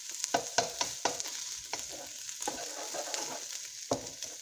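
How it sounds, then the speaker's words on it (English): Egg and vegetables for shrimp fried rice sizzle in a frying pan while a utensil stirs and scrapes them together, with a steady frying hiss and repeated close clatters. "We're going to go ahead and mix it together with the veggies."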